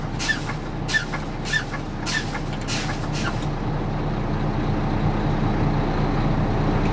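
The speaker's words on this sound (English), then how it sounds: "we need to fan our brakes down, drop between 20 and 25 psi" Air brakes on a truck during a Class 3 pre-trip check release repeated sharp hissing bursts of air in quick succession over a steady idling engine, then the bursts stop and the engine idle carries on alone.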